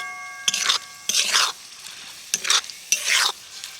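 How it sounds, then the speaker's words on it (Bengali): Amla hair oil simmering gently over low heat and being stirred, with four separate scraping stir strokes over a soft background bubbling hiss, close and moderately loud. "তেলটা দেখুন একদম ছোট ছোট বুদবুদ আকারে ফুটছে"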